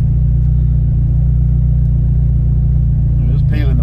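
A tuned 500+ hp SEAT Ibiza on boost at 1.5 bar, spinning its wheels on a dry road, gives a loud, steady low engine drone and rumble throughout, with a brief sharper burst near the end.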